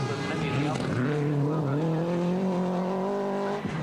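A 2004 WRC rally car at Rally GB racing over a slippery surface, engine droning and rising steadily in pitch as it revs hard, heard under continuous commentary.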